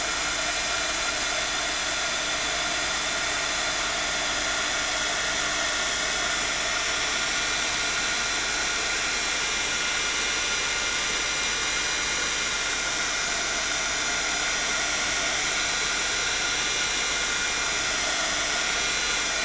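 A heat gun blows on embossing powder to heat-set it to a glossy glaze, giving a steady, loud, unbroken whoosh of rushing air that holds the same level throughout.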